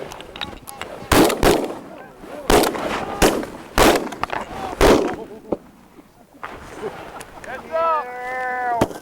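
Gunshots ring out during a goose hunt outdoors, several sharp loud blasts spaced a second or so apart amid wind noise and people talking, with goose-like honking calls near the end.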